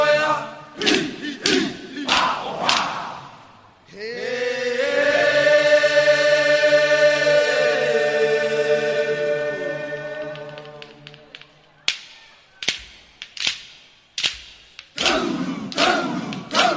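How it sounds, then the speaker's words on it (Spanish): A school crowd at a Chilean national heritage day event breaks into loud, sustained applause and cheering, with a long rising roar in the middle, framed by scattered clapping and claps at the start and end. "fuerte aplauso para Tercero Medio."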